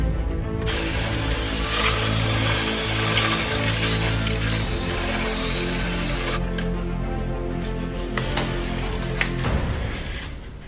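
A power drill runs steadily and loud with a paddle churning thick wet concrete, a continuous grinding whir that shifts slightly near the end.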